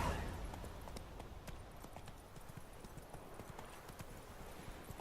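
Horse hooves clip-clop at a steady walking pace in The Witcher 3, close and distinct over a soft ambient bed, with the rhythmic hoofbeats running throughout.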